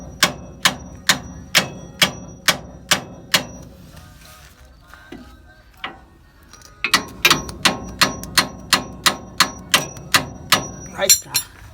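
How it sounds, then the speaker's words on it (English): A hammer pounds metal while a flip kit is installed: a steady run of about eight loud, evenly spaced blows, a short pause, then a faster burst of a dozen more strikes, close and ringing. "Dame el hammer, güey."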